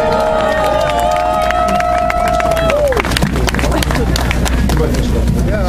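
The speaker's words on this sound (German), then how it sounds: "machen wir bitte noch ein paar Applaus für die Jungs!" A crowd at a street demonstration in Berlin claps and cheers loudly and steadily, with a sustained tone fading out early and broadband crowd noise and scattered shouts continuing throughout.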